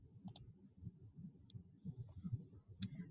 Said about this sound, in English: So let's go into my sample by clicking on the link.